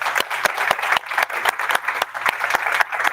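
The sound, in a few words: applause from the audience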